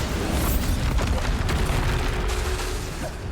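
Bombarda spell explosions in the video game Hogwarts Legacy form a dense, continuous roar of booming blasts and bursts, loud and close for the whole stretch, with no clear gaps between impacts.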